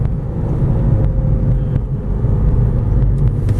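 A 2014 Honda Civic Si with a six-speed manual pulls uphill in second gear, its engine giving a steady, loud low rumble under acceleration inside the cabin, with some wind buffeting and no talk.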